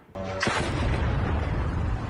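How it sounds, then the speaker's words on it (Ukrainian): A loud, booming blast from a nighttime drone and missile strike in Russia erupts suddenly and then rolls on as a sustained, rumbling roar with no voices. "Гучні вибухи та спалахи у небі."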